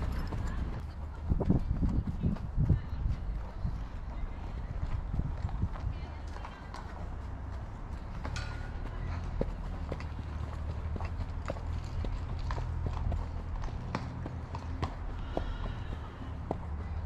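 Horse hooves clip-clop at a walk on the way home after a riding lesson, a steady, fairly quiet rhythm of hoofbeats with people talking over them throughout.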